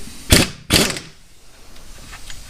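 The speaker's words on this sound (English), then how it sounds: "I'm going to be removing this bolt here. It's held on with I'm using a 17mm socket." Two quick, loud rasping bursts from a ratchet with a 17mm socket loosening a bolt on a 1984 Honda Shadow 500 motorcycle engine, followed by quieter faint clicks.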